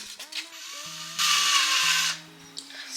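A power drill bores into a faux tree trunk to make a socket for a branch. It gives one loud, whirring burst of about a second, set between softer tonal background sounds.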